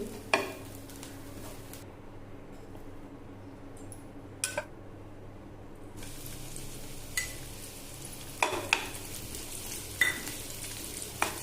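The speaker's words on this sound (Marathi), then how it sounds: "दोन मोठे चमचे तेल घेतलंय आणि तेलामध्ये कांद्याची मी फोडणी करते" Chopped onion sizzles steadily in two big spoonfuls of hot oil in a pan as a tempering for a fresh cashew curry, with a few sharp clinks and stirring scrapes breaking through the continuous frying hiss.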